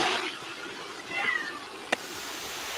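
Cats meowing in an AI-generated video, a couple of short cries near the start and middle with a brief sharp click near the end, over a steady background hiss.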